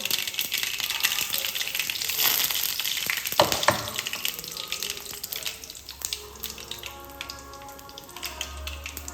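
Dried red chillies and mustard seeds fry in hot oil with a steady hissing sizzle, broken by scattered pops and splutters throughout.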